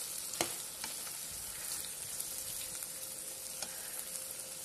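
Tomato and onion masala fries in a pan for Andhra-style prawn curry, giving a steady close sizzle with occasional sharp ladle taps and scrapes.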